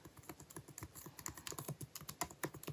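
Computer keyboard keys are pressed in quick, uneven succession, each press a crisp close click, about ten to twelve taps in under three seconds with no voices.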